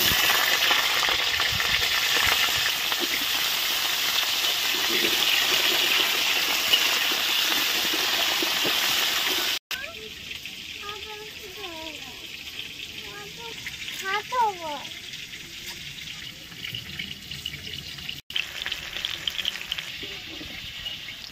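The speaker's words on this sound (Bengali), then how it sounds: "আমরা আলুটা ভেজে নেবো, তার জন্য তেলটা দিয়ে দেবো" Potatoes frying in hot oil give a loud, steady hiss for about ten seconds, then the sound turns quieter with light clatter and a voice talking over it.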